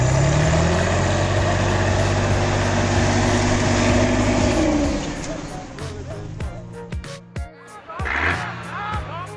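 A heavy truck with a 300-horsepower YAMZ V12 diesel engine roars at full load while stuck in mud, then bursts free, the engine note dropping away into lighter rumbling and scattered knocks and clatter.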